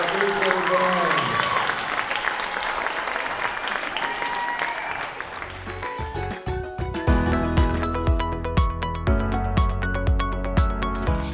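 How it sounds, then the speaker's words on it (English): Applause from a school audience for an eighth grade band swells loudly through the first half, then gives way to music with a strong beat. "give another round of applause for our eighth grade band."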